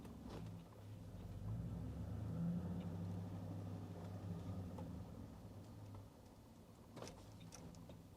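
A 2005 Chevrolet SSR's engine drones steadily while driving, a low rumble swelling midway and easing slightly toward the end, with no talking.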